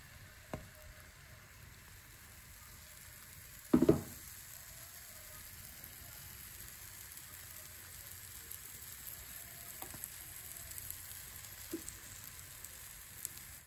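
Pancake batter frying in a greased non-stick pan gives a faint, steady sizzle throughout, broken once by a sharp clatter near the start and a few soft ticks later, with no talk.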